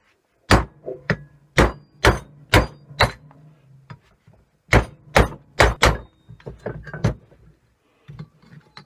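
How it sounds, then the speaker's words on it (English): Sharp hammer blows from a big hammer ring out in two bursts of about five or six strikes each, loud and close, with a short pause between bursts. "Big hammer."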